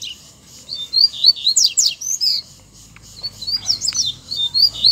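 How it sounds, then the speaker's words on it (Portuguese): A double-collared seedeater (coleiro), a free wild bird, sings loud, close trilling phrases of rapid chirps and whistles, pausing briefly before resuming with more bursts, alone without voices. "A coleira subiu de novo, vai começar a cantar."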